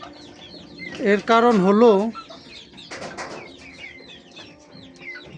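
Native chickens about two to three months old kept inside an enclosed coop, clucking and chirping in a busy chorus, with someone speaking briefly over them near the start.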